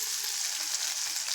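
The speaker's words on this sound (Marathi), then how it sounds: "जिरं मोहरी टाकते" Cumin and mustard seeds sizzling in two spoons of hot oil in a kadhai for tempering, a steady close crackling hiss with no voices.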